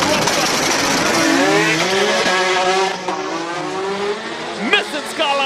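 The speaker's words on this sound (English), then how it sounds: "Nissan Skyline R34 RB26. Big turbo, lots of power." A Nissan Skyline R34 with a big-turbo RB26 engine runs at a hill climb race, its rising engine note loud and sustained over a few seconds, with a brief sharp burst near the end as a commentator talks over it.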